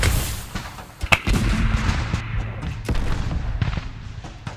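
American artillery firing rounds in a First World War battle, with heavy booms and sharp cracks thumping in quick, irregular succession over a continuous low rumble, loud and close.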